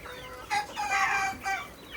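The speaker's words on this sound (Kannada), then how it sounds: "ಈ ಕೋಳಿಯನ್ನು ಸಾಕಿದ್ದಾರೆ, ನಾಟಿ ಕೋಳಿಯನ್ನು ತಂದು ದಾವಣಗೆರೆಯಿಂದ ತಂದಿದ್ದಾರೆ" Native country chickens from Davanagere cluck on a small farm, with several close, fairly loud bursts of overlapping clucks and a faint crow-like call. No one speaks.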